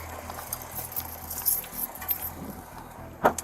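Keys jangle and clink faintly during a police arrest as an officer bags a detained man's belongings, with a sharper metallic jingle near the end over low background rumble.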